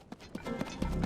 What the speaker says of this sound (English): We're hopping back on the horse.